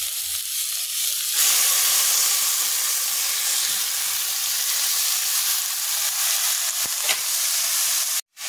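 Halim seeds (aliv) hit a hot kadhai and sizzle loudly in a steady, hissing fry that holds for several seconds, with a brief stirring scrape near the end and no talking.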